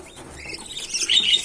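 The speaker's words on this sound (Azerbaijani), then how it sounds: "Bu gün qaragözlərimiz üzrə balaları yemə düşüblər." Young Qaragoz pigeon chicks in a cage chirp while feeding, a quick burst of thin high cheeps with faint fluttering, close and brief.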